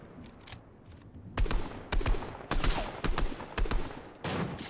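Rapid bursts of gunfire in the Fortnite video game crack out in a quick, uneven series of sharp, close shots, a few fainter pops leading into louder repeated blasts.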